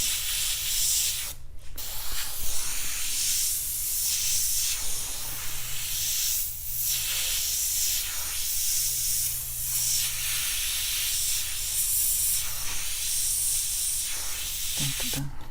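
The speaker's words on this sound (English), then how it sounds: "I'll do a Bob Ross tutorial with the airbrush and see how it turns out" An airbrush sprays paint onto a T-shirt in a steady, close, airy hiss that swells and eases in soft pulses as the strokes are made, with no talk over it.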